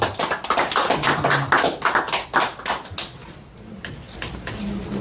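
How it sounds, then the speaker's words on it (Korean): Enthusiastic clapping from a lecture audience welcoming speakers, dense at first and thinning out toward the end, with no speech. "박수 부탁드립니다."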